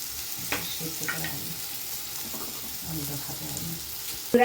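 Ginger and garlic fry in oil for a dhoka curry with curry leaves and gondhoraj lime, giving a steady close sizzle with a few stirring scrapes and a sharper clatter at the end.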